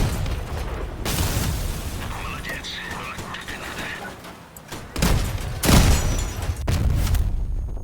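Vehicle combat in the game Crossout brings bursts of gunfire and heavy booming explosions, with dense crackling and mechanical clatter throughout and several sharp blasts near the end, while players talk over it.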